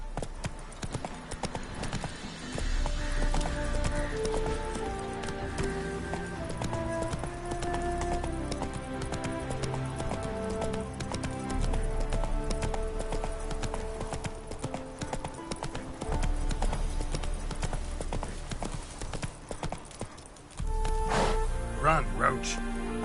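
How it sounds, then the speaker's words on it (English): Hooves of a horse galloping in The Witcher 3 video game, a rapid continuous clip-clop rhythm with the occasional whinny, loud and close, running for the whole stretch. "Run, Roach."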